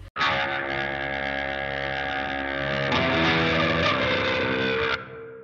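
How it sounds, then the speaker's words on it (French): Electric guitar drenched in reverb for a Halloween film score, with loud sustained distorted chords ringing and blooming continuously for about five seconds before cutting off into a short decaying tail. "Ensuite, j'ai mis de la reverb."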